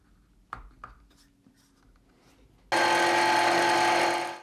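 Power sanding on a Goncalo Alves wood block plane part: after a few faint knocks, a loud, steady broadband sanding roar kicks in abruptly and runs to the end.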